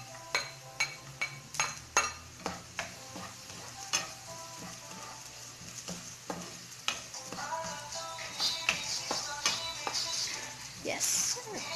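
Garlic going into a pan while adobo cooks, a steady sizzle with a run of sharp metallic clinks and scrapes of a utensil against the pan early on, then softer stirring and frying noise.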